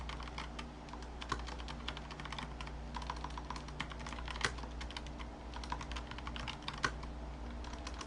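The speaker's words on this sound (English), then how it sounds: "Obviously, typing live is not my favorite thing." Quick, uneven typing on a computer keyboard, with irregular clusters of close, crisp key clicks and a few louder strokes over a steady low hum, and no talking.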